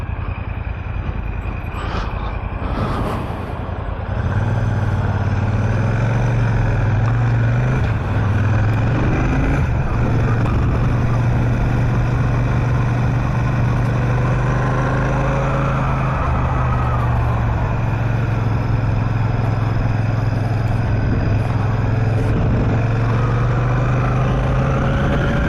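A Royal Enfield Shotgun 650 motorcycle being ridden along the A50, its engine a steady, loud low drone with rising and falling revs beneath continuous wind rush.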